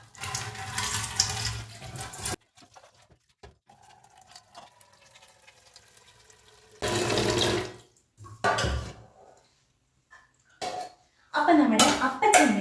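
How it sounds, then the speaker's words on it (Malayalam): An appachembu steamer pot is washed under a running tap and then filled with water, in loud splashing bursts broken by quiet gaps and light clinks of metal. "എന്നാലും നമുക്കിതൊന്നും കൂടി ഒന്ന് കഴുകിയിട്ട് വെള്ളം നിറച്ച് വെക്കാം കേട്ടോ"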